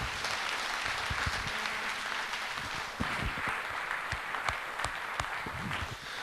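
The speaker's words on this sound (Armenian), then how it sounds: "խնդրանքս, որպեսզի ջերմ ծափարենք նրանց" An audience at a memorial evening applauding the event organizers, warm sustained clapping from many hands in a hall, loud and continuous with a few sharper individual claps standing out.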